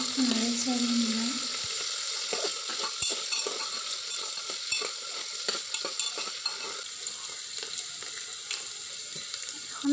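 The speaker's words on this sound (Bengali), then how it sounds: "এখন আলুগুলো দিয়ে দেবো। আলুগুলো দিয়ে একটু নাড়াচাড়া নিলাম।" Potatoes fry in hot oil with whole cumin for a Bengali koi fish curry, stirred with a spatula, giving close, continuous sizzling broken by irregular scraping knocks.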